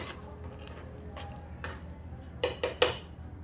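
A metal spoon stirs rice kheer with bottle gourd in a pot, making three sharp, close clinks against the rim toward the end after quiet scraping, with no one talking.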